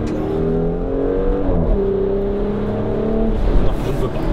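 A Porsche Macan GTS pulling away under acceleration, engine tone climbing smoothly, dipping briefly at a gear change, then rising again, close and fairly loud, with no talking.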